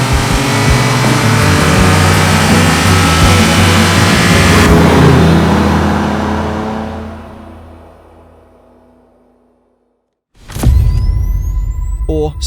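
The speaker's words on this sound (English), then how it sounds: "And this is the TVR Sagaris." TVR Sagaris sports car engine revving loud and close for several seconds, then fading away into near silence before a sharp new burst of engine noise returns.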